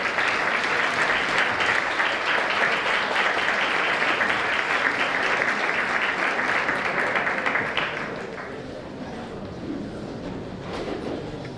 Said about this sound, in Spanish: Un aplauso e aquellos presentes lo que van a dar.